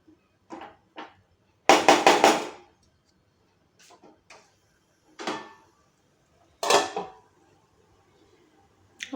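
A lid goes onto a pan of mushrooms and capsicum cooking in butter and garlic, with a loud cluster of metallic clanks and rattles, then a few fainter knocks separated by quiet gaps.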